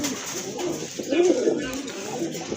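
Pigeons for sale at a market coo close by with low, rolling calls over a busy background.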